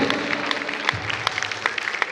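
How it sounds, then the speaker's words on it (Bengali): An audience claps at a Bangla department alumni gathering at Rajshahi University during a puthi recitation program. The clapping is a dense, steady crackle of many hands, fairly close and lasting about two seconds, with no voices over it. "আবার একটা হাততালি জোরে হাততালি হবে"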